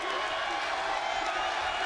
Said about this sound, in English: Listen to the crowd here at Victory Road